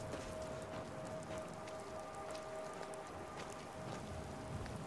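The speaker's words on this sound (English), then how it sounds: "Oh, it's raining." Steady rain falling in a video game, a soft continuous patter with scattered droplet ticks and a faint tonal hum underneath, with no talking.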